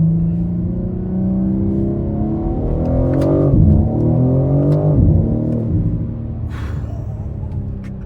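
A 1000 hp BMW M4 Competition engine pulls hard under acceleration, loud and close from inside the cabin, its harmonic roar climbing through two sharp gear changes with brief dips before rising again.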